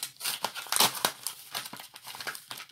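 A paper envelope being opened up close, with irregular crinkling, rustling and brief tearing bursts, fairly loud and alone.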